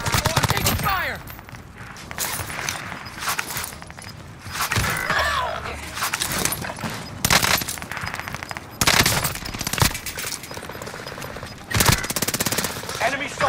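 Bursts of automatic gunfire and single shots from the Call of Duty: Modern Warfare multiplayer game, loud and repeated in rapid volleys across the whole stretch, with game voice lines and effects mixed in.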